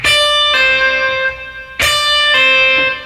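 Two distorted electric guitar pull-offs, each a picked note snapping down to a lower one and ringing out, close and clear.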